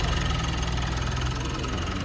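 A navy blue Mitsubishi Montero Sport with a 2.5 liter 4N16 turbo diesel engine idles smoothly and steadily, a close, even mechanical hum with faint rhythmic knock and no talking.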